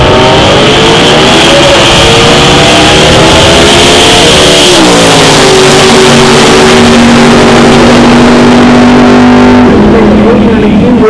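A drag car with a 406 cubic inch small block Chevy engine revs hard at a drag strip. A loud, rising engine roar climbs through the gears and then holds a high, sustained scream up close.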